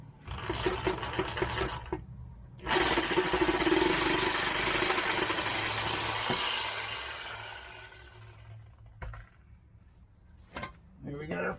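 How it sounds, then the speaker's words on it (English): A Sawzall reciprocating saw cuts through pipe on an RV, close and loud: a few short buzzing bursts, then one sustained rasping cut of about five seconds that fades out, followed by scattered clunks. "So get the old sawzall."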